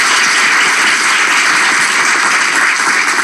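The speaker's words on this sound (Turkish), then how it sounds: "Coşkun alkış hocalarımıza." Steady, dense applause from a studio audience on a Turkish television talk show, a continuous wash of many hands clapping at once, loud and even throughout with no voices above it.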